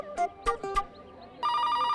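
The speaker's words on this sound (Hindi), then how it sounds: "अबे अभी किसका फोन बज रहा है?" A telephone rings in a shop scene, with a steady electronic ringtone that starts clearly after a few short clattering hits and brief voice-like sounds, then sustains at an even, moderately loud level to the end.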